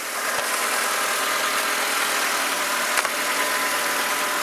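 A 1999 Mazda Protege engine idles steadily nearby, a continuous even hum with a faint click or two and no voices.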